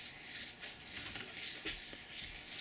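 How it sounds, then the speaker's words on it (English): Cloth buffing the first sealing coat of finish off a wooden bench, a steady soft rubbing hiss that swells and eases in repeated strokes, close and alone. "I'm going to go ahead and buff that off right now."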